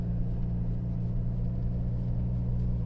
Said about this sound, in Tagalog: Ganyan yung tunog ng makina